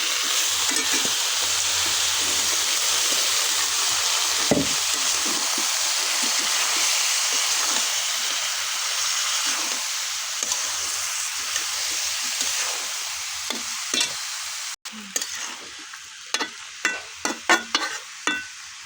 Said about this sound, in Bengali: এই যে ভাজা হয়ে গেছে পেঁয়াজমরিচ, এখন ডিম আলু ঢেলে দিলাম।